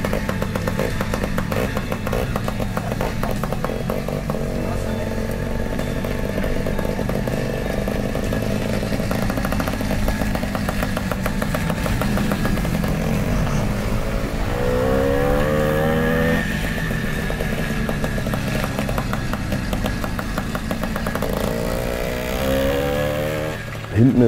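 A Simson Schwalbe KR51/2 moped with a plain open pipe and muffler, its small two-stroke engine revving loudly and continuously at close range, buzzing with rising and falling pitch throughout.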